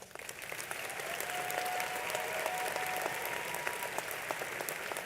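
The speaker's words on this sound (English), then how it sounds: "Let's give these students a big round of applause." A graduation crowd at Mountain View High School gives sustained applause for scholarship recipients, a broad steady wash of many hands clapping in a large space, with a faint tone running through the middle and no clear talk.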